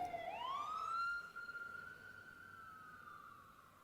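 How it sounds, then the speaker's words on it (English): A fire engine siren sounds alone, sweeping up in pitch and then holding a long, loud wail that slowly eases and fades as it moves away. "When a fire engine passes and its siren makes a loud noise"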